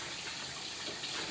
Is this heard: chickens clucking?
no